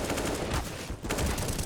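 Rapid gunfire in Counter-Strike: Global Offensive during a competitive match on the Ancient map, pistols being cut down by heavier weapons; dense, loud bursts of shots continue almost without pause, with a brief lull midway.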